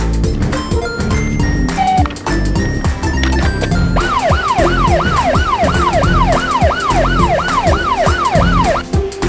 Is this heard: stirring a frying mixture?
no